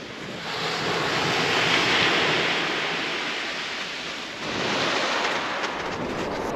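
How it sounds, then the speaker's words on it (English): Waves washing up at a beach's edge at night, a steady close roar of surf with wind buffeting the microphone, swelling and easing without voices. "Okay, so we're down at the water's edge"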